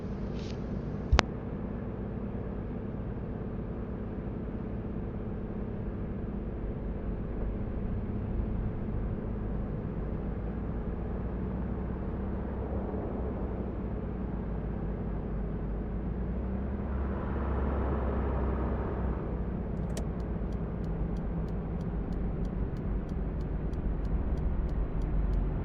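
Steady low engine drone of a BMW 750i E38 driving through a city in the City Car Driving game, continuous and even with a faint click near the start and a brief swell of road noise later on.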